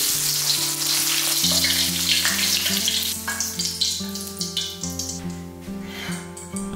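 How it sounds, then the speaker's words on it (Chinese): Scallion greens fry in plenty of hot oil until golden, giving a steady, close crackling sizzle that runs throughout beneath soft background music. "留下葱绿，继续煎到焦黄，"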